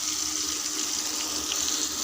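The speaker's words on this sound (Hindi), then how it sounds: "थोड़ा सा पानी ऐड कर दिया ताकि जो हमारा प्याज है उसको अच्छी तरह से सॉफ्ट हो जाए" Water pours steadily into a pan of onion gravy cooked with tomatoes and small green chillies, a continuous close splashing gush lasting about two seconds with no talk.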